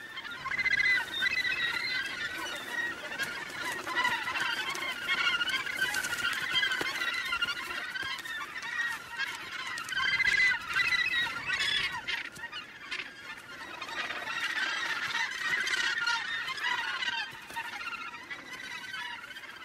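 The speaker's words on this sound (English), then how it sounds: "The gannets are coming home after fishing." A crowded gannet breeding colony calls nonstop as birds return from fishing, a dense, raucous chorus of harsh overlapping cries that stays busy and fairly loud for the whole stretch.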